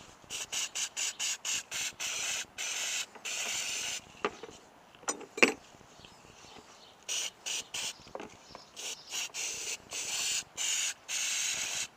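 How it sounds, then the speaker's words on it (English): Spray cleaner hisses onto motorcycle front brake pads, pressure plates and pins in quick repeated bursts, close and fairly loud, with short pauses and faint handling clatter between sprays. "Just give everything a quick spray down."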